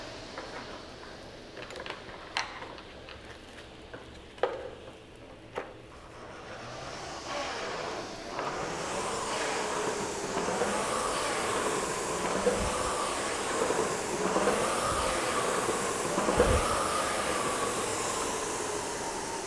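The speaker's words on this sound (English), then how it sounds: "that fan makes a good amount of noise as well as the chain" Bells of Steel Blitz air rower on its highest resistance setting, the fan building to a steady whooshing roar with chain rattle and rhythmic stroke surges, moderately loud and close.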